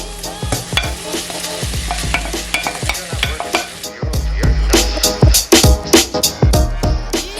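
Salted cod (bacalhau) tossed into a pan of softened onions for Bacalhau à Brás, with loud continuous sizzling and repeated scraping stir strokes, growing louder and busier after the fish goes in.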